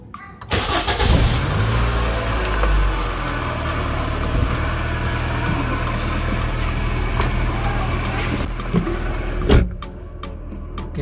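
A car engine, in a car with its check-engine light on, starts with a quick burst and then settles into a loud, steady close-up running noise with a few clicks and knocks near the end and no talk.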